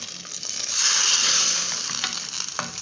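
Hot tempering of dried red chillies in oil poured into spinach curry, giving a loud, dense sizzle that swells in the first second and stays strong, with a few scraping clicks near the end.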